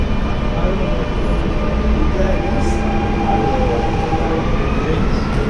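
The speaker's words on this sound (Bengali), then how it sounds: "ট্রেন চলে গেল" A Dubai Metro train pulls out of the station with a loud, steady rumble and a high whine from the rails. The roar stays constant throughout, with no clear voices.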